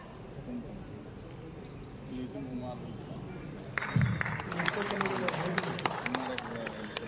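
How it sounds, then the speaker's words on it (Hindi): Applause breaks out at a Lucknow wedding expo ceremony, starting suddenly midway after a quieter stretch of room murmur and continuing as a steady, close patter of many hands. "जोरदार तालियां होती रहें"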